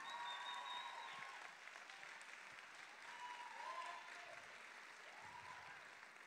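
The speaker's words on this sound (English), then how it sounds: "Can we give him a good round of applause again?" An audience at the Miss & Mister Supranational Namibia 2022 pageant claps in a steady, sustained wash for several seconds, faint and distant, with a few tonal hums from the venue sound system underneath.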